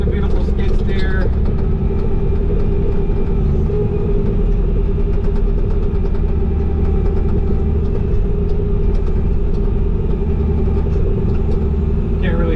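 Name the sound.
Bobcat T595 skid steer engine running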